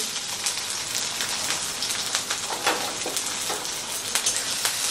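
Chopped ginger, garlic, green chilli and a small capsicum frying in hot oil for a veg Frankie roll filling, giving a steady, close, dense sizzle with crackly spatter throughout and no voices.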